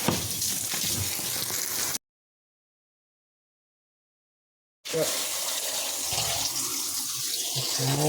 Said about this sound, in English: clean that off with some water.